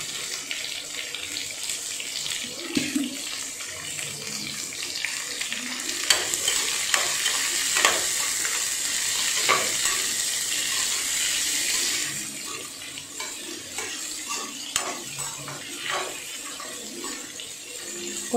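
Green chillies and onions sautéing in a pan produce a loud, continuous hiss and crackle, with repeated stirring scrapes and spatula knocks throughout, close up and without talk.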